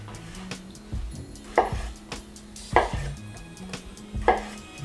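A kitchen knife chopping ingredients for a hot ham and cheese sandwich on a cutting board: four or five firm, evenly spaced thunks with short scrapes between them and no talk.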